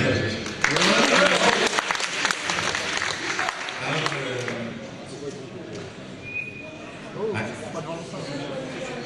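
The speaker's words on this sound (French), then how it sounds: "On l'applaudit." A burst of clapping from a crowd at an Amiga and retrocomputing fair rises and then tapers off, with people talking through and after it.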